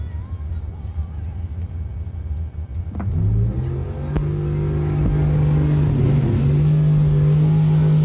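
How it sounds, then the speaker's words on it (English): Junior dragsters at a warm-up round of a Christmas bracket race idle and then rev, the engines rising into a loud, sustained close drone with a steady pitched tone. "Kick Booty Motorsports 15K warm-up round 3 dragsters coming out"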